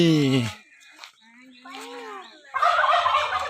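A turkey lets out a loud, rattling gobble up close, with quieter bird calls between the bursts.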